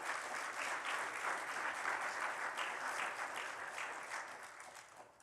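Sustained applause from a church congregation fills the room, dense and steady, tapering off slightly toward the end with no talk over it.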